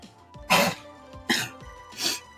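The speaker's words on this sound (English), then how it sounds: "My doggy sneezed." A dog named Eddie sneezes three times in quick succession, sharp, close bursts spaced under a second apart over a quiet room with a faint hum.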